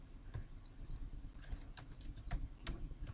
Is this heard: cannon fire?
no